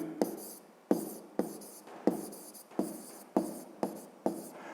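A pen or pencil scratches out short strokes against a ruler on paper, about eight quick strokes at a steady rhythm, each starting with a small tap, close and fairly quiet.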